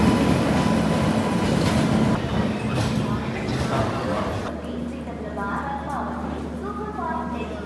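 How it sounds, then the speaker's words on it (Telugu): A train rumbles at Vijayawada railway station, a loud rolling clatter that settles into a low steady hum, with voices in the background. "ఫైనల్లీ ఇప్పుడు మేము వచ్చేసాము విజయవాడ రైల్వే స్టేషన్"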